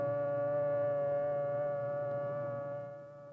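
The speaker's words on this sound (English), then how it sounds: "The signal is a long, steady blast on the civil defense sirens or other warning devices." A long, steady civil defense siren tone holds at one pitch for several seconds, loud and unbroken, easing slightly toward the end.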